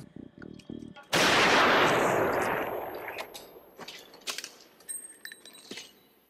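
A single sharp, loud gunshot from the film Fight Club bursts out after a quiet opening, its blast decaying over a couple of seconds into scattered clinks and faint rustling.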